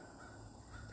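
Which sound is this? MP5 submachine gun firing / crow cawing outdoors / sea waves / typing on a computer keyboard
crow cawing outdoors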